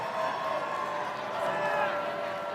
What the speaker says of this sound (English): 3197 has a pretty impressive cheer squad.